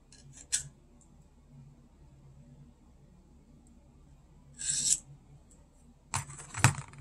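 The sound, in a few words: double cut file dulling a knife edge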